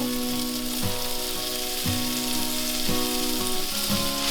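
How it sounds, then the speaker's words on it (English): Diced carrots, celery and leeks sautéing in olive oil, a loud continuous sizzle up close with a few rhythmic stirring scrapes running through it, no voices. "add in a couple of tablespoons of olive oil and add in our 2 carrots diced, our 1 celery stalk diced, and our 3 leeks"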